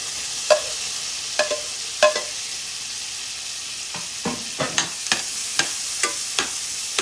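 Chopped onion sautéing in butter in a pan gives a steady close sizzle, with scattered clicks and scrapes of stirring throughout.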